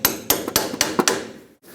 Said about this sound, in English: let's hammer a socket on top of it